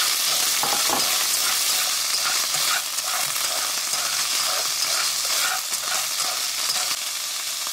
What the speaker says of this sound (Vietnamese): Rồi cho nấm vào xào khoảng 1 phút.